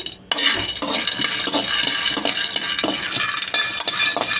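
Peanuts dry roasting in a kadai for Nuvvulu Annam prasadam, stirred with a metal spoon, giving repeated loud clinks and scrapes against the pan in an irregular rhythm, up close and without talk.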